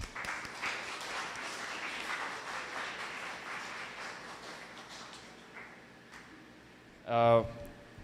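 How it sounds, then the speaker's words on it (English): Audience applause at an Indigenous language rights policy brief launch, honouring presenters; moderate, steady clapping for about five seconds that fades away, followed by a brief burst of speech. "Once more, a round of applause."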